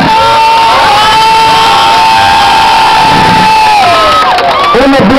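A crowd cheers and shouts for children who have just danced at a zapateado contest in Aguascalientes, a loud, close roar of voices with children's shouts and whoops rising above it and clapping mixed in.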